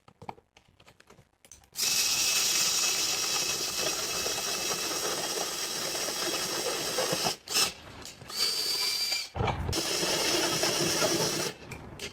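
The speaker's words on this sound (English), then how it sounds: "I added pocket holes to the front apron piece" Pocket holes drilled into a wooden furniture base: a loud, sustained high-pitched power-drill whine, cut by a couple of brief pauses and a short burst before resuming, close up with no voices.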